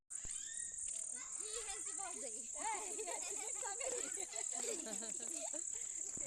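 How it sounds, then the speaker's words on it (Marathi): Crickets chirp in a steady, high-pitched drone through the night in a village during a Gauri-Ganpati festival. Voices, including children, talk and chatter over it the whole time. "ऐकलात ना तुम्ही रातकिड्यांचा आवाज"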